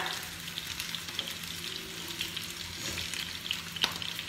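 Pabda fish frying in a pan of hot oil, giving a steady, close sizzle with faint crackles and the occasional sharper pop, heard alone without voices.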